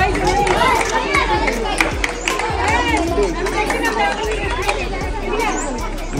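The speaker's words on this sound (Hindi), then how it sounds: "अभी यहाँ पे काफ़ी भीड़ हो चुका है। स्कूल के बच्चे भर गए हैं।" Crowd of school children chattering and shouting at Unakoti in Tripura, a dense, continuous babble of many young voices close by, with footsteps and scattered claps mixed in.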